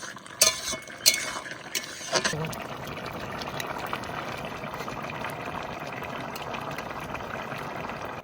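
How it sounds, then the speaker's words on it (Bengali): Pumpkin greens with potato being stirred with a spatula in a pot: a few sharp scrapes and clatters early on, then a steady soft churning, wet stirring noise that carries on evenly throughout. "এরকম খুন্তি দিয়ে ভালো করে ঘেটে নেবো শাকটা"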